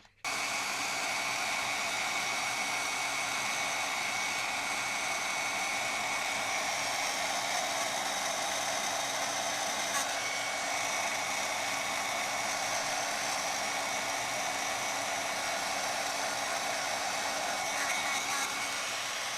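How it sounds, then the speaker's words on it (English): Heat tool for crafting blows hot air to warm a project and melt embossing powder, a steady, loud, continuous whirring hiss running unbroken and close for nearly twenty seconds. "let me get my heat tool. We will warm everything up and then melt the powder."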